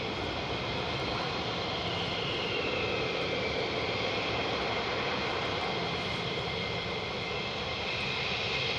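An F-35 jet at RAF Lakenheath gives a loud, sustained roar that stays steady and broad for the whole stretch, with a faint shifting whine on top and no talking.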